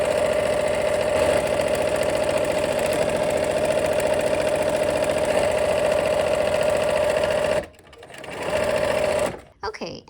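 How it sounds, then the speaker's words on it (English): Sewing machine running steadily as quilt seams are stitched, a continuous close mechanical whir with rapid needle rhythm for about seven and a half seconds, then stopping briefly, restarting and halting. "Let's go ahead and nest those seams. All right, let's go ahead and sew."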